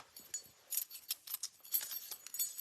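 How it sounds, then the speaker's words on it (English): Metal scissors picked up from a crafting table, a few faint, light clinks and rattles in quick irregular succession, close and quiet. "So let me grab a pair of scissors."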